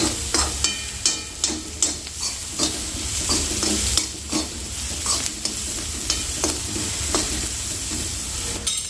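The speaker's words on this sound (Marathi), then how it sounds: "यामध्ये आता हिरवी मिरची आणि शेंगदाण्याचं वाटण टाकायचं आहे" Peanut and green chili paste frying in oil with onions, a steady loud sizzle close up, broken by regular scraping stirs of a spoon against the pan.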